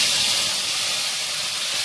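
Chopped tomatoes hit hot oil already holding bay leaves and cumin, giving a loud, steady hiss of sizzling that fills the moment without any talking.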